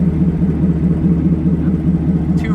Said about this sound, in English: it's basically just a muffler delete with the two resonators to make it sound better, and it's very loud.